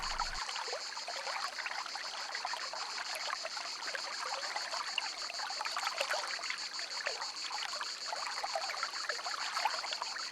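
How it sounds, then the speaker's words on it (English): A shallow forest stream with little water trickling over rocks in the dry season, a continuous soft babbling with a faint steady high hiss over it, distant and even throughout. "The streams carry very little water."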